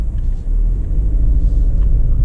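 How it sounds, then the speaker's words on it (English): Low engine rumble of a Skoda Octavia RS 245 with a DQ381 DSG gearbox driving steadily in D mode, loud and continuous road noise with a deep drone and no speech. "So this is the car driving"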